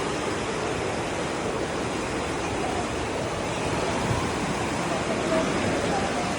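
The Aare River rushes between large boulders in a mountain gorge in Switzerland, producing a constant, loud broadband roar of flowing water that fills the whole stretch without pause.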